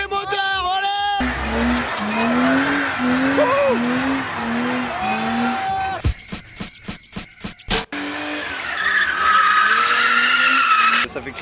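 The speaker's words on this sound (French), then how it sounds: "Ça fait crisser les pneus là." Car tires squeal loudly in long shrieking bursts during a burnout over revving engine roar, broken midway by rapid pulsing engine bangs, then the squealing returns.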